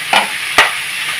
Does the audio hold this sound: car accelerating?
no